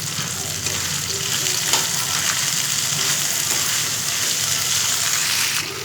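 Curry leaves and cabbage sizzling steadily in hot oil while cooking special rice, a continuous close frying hiss with faint stirring, no talking.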